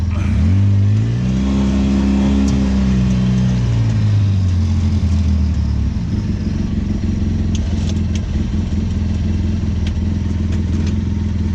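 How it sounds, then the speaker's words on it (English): A winch on a Polaris Razor UTV hauls up a snow pusher plate, its motor whine rising and bending in pitch over a steady engine idle, then settling into a continuous mechanical drone. "Hit the old winch, raise her up."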